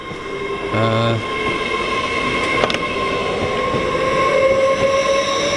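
A Hull Trains class 802 Paragon set in 21st anniversary livery passes through Doncaster on a London King's Cross to Hull service, with a short two-tone horn blast early on, then a loud steady rumble and whine of the passing train.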